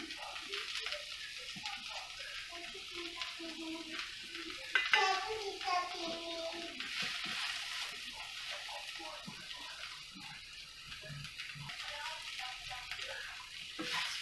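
Okra fry being stirred in a pan with turmeric, chilli powder, garam masala and coriander powder, a continuous scraping and light sizzle with brief louder stirring strokes, no voice over it.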